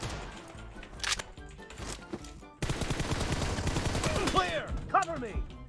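Pistol gunfire in a video game, with rapid repeated shots and bursts that turn dense and continuous in the second half, loud and close.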